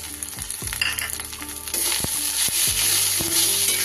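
Ground turmeric, Kashmiri chilli, coriander and cumin with ginger and garlic sauté loudly in a pan for a fish curry, a steady close sizzle with several sharp scrapes of a spatula against the metal.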